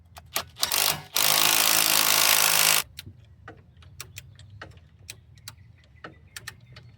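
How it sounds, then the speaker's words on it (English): Wrench work tightening a ball joint bolt on a 2007 Ford Ranger FX4 during an upper control arm replacement: a series of sharp metallic ratchet clicks and ticks, with one loud sustained burst of noise partway through, recorded close up with no talking. "I'm also gonna tighten down this ball joint bolt right here real quick"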